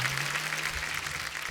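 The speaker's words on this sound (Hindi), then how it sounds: "ओ जोरदार तालियां विकी कौशल जी के लिए" Studio audience applause for actor Vicky Kaushal and director Shoojit Sircar on The Kapil Sharma Show: a dense, steady wash of many hands clapping at full volume, unbroken through the whole stretch.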